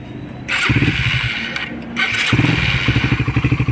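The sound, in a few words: motorcycle engine starting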